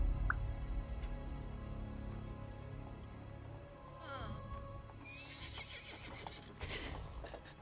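Horse neighing and hooves clip-clopping, played as a sound effect during a tabletop game session, with a whinny rising through background room noise and a second burst of clattering near the end.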